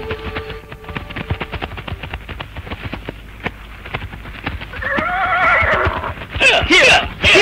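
Horse whinnying in a radio drama, a loud shrill neigh rising near the end over galloping hoofbeats and clattering action effects, close and prominent with no speech.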